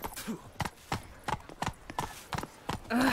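Rhythmic hoofbeats of a horse galloping in The Witcher 3: Wild Hunt Next-Gen, quick repeated clip-clops close by, with a brief snort or whinny near the end.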